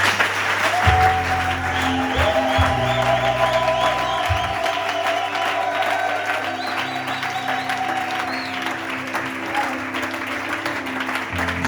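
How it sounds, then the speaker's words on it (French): A church congregation breaks into sustained applause and cheering, with whoops and a dense, near crowd clapping that holds steady for the whole stretch, and bursts of low organ or bass tones under the start. "Est-ce que quelqu'un peut seulement acclamer avec joie?"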